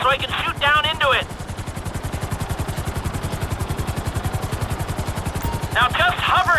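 Helicopter hovering in GTA 5 above an excavation site, a steady rapid rotor chop running throughout, with a voice talking at the start and end.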